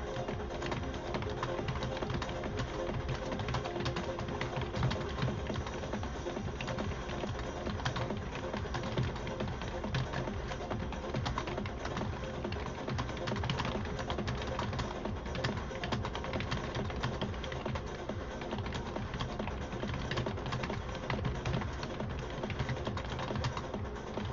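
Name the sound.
typing on a computer keyboard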